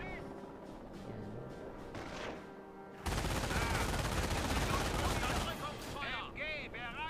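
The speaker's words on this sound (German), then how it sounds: "Feindbeschuss!" Enemy gunfire in a Normandy invasion video game: a low rumble under voices gives way to dense, loud, sustained shooting and booming bursts that fill the back half, with people talking throughout.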